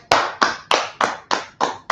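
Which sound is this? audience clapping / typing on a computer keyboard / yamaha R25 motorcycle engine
audience clapping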